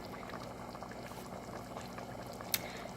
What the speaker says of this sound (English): And so it's going to cook and simmer for a little bit,